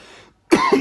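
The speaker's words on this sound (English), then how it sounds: "I'm probably going to be coughing until the end of my videos" A person coughs twice in quick succession, close and loud, after a moment of near silence and faint background noise.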